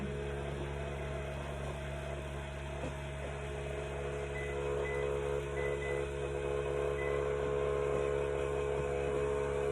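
A low, steady machine hum with a constant drone, like a freeze dryer running nearby, unchanging throughout with faint tonal whine above.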